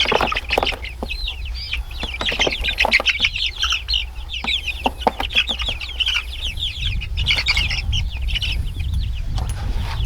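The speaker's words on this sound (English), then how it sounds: "and there is all 14 chicks." Fourteen young chicks in a chicken tractor cluck and cheep continuously up close, a dense chatter of high peeping calls over a low outdoor rumble, with no talking.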